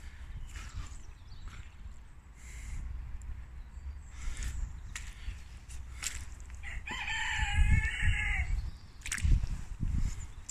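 Chickens in a coop in the corner of a greenhouse cluck and a rooster crows clearly once, over faint background rustling and scattered knocks, with no talk.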